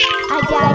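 A short bright bell ding played as a sound effect, ringing clearly and alone with a sustained tone.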